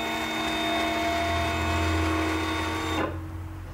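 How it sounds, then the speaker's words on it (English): A Janome Artistic Edge cutting machine drawing lettering with a pen, its steady motor whine running loud and even, then cutting off abruptly near the end as the machine stops. "So the machine's going to do the writing and then it's going to stop so I can change the pen for a blade."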